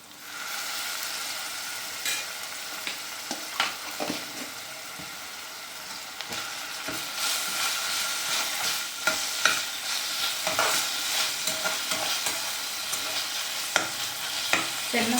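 Ginger garlic paste with green chillies frying in a pan for chicken gravy, a continuous loud sizzle with frequent spatula scrapes and taps, growing busier and brighter in the second half, no one speaking.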